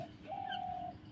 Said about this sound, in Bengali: ওদিকে ঘুঘু পাখি ডাকছে